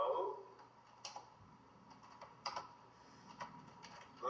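Quiet, irregular taps of a computer keyboard as a short message is typed, with light clicks spaced unevenly over a low room hum.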